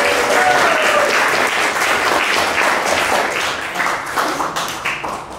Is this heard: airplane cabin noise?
no